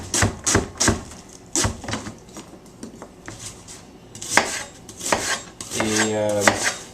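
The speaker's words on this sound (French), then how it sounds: "Alors on coupe l'oignon" A knife chops through an onion for a veal cube stew, a series of close, sharp strikes on a board coming in uneven bursts with brief pauses between them.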